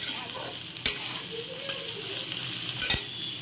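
Carrots, beans, capsicum, chopped onion and chopped garlic stir-frying in a wok, a steady close sizzle with occasional scraping stirs of the spatula.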